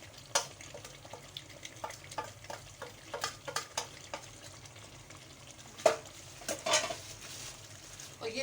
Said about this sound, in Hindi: अच्छा ये देखिए मेरा मसाला भुनना है।